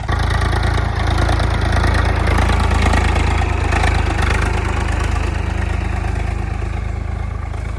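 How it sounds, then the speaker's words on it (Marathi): A large tractor's engine idles at about 800–900 rpm, a steady deep chugging hum that stays loud and close for the whole stretch with no talking. "आठशे नऊशे आर पी एमवर ट्रॅक्टर चालू आहे"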